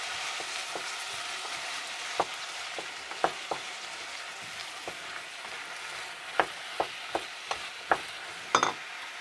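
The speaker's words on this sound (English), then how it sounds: "Keep stirring that round, frying that." Beef for goulash sizzles and fries steadily in a pan, with sharp clicks and scrapes as it is stirred round, fairly close and at moderate volume, no talking.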